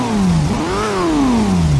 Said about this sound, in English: The Viper Coupe sounds like this in GT1.